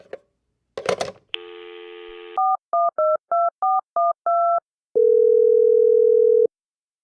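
A house telephone is handled and picked up with a clatter, then a dial tone plays before a run of eight evenly spaced touch-tone keypresses, ending with a steady ringback-style tone; no talking.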